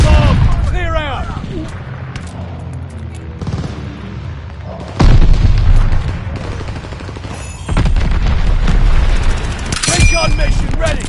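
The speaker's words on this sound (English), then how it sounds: "Incoming bomb. Clear out." Bomb blasts and gunfire in Call of Duty: Vanguard team deathmatch, with heavy booming bursts hitting near 5 and 7.7 seconds amid ongoing game effects and occasional voice callouts.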